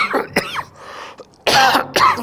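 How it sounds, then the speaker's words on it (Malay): A few harsh coughs and some throat clearing, close by, in short bursts with brief pauses between. "Dia batuk dah."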